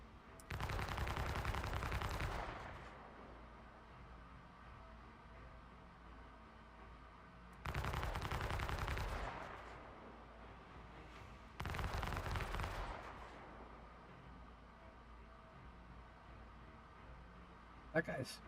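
Spaceship guns firing in the video game Star Citizen during a dogfight: three loud, dense bursts of rapid automatic fire, each lasting one to two seconds, separated by quieter stretches, with a player talking.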